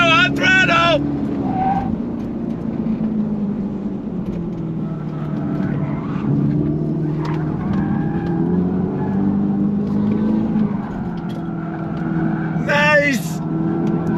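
A 2025 Dodge Charger Daytona Scat Pack accelerates on throttle with a steady, loud low drone that shifts slightly in pitch over about fourteen seconds, and brief voices break in near the start and end.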